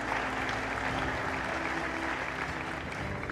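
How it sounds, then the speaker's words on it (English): An audience at an aviation forum gives a round of applause for the panelists, a steady, moderately distant wash of clapping that holds evenly throughout with no break. "Let's give them a round of applause, ladies and gentlemen."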